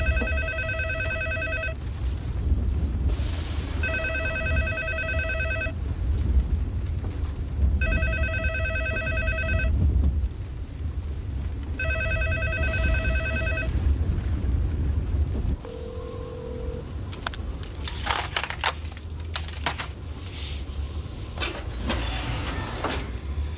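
A telephone rings unanswered in a house during a storm, with four long electronic ring bursts in a regular pattern over steady rain and rumble, followed by a brief beep and scattered clatter.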